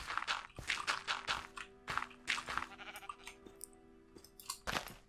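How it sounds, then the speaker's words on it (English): Sheep in the Minecraft video game bleat and make crunchy chewing sounds while eating grass, with repeated bursts and game noises in the background. "I meant because the sheep ate the grass."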